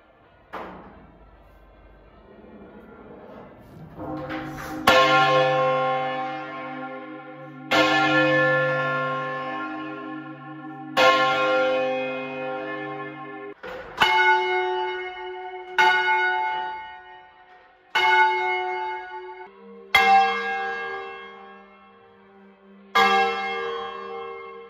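Church bells of St Fin Barre's Cathedral, hung in a cast-iron frame, ring out in loud, resonant strikes about every two to three seconds, each tone ringing on and decaying before the next, heard alone.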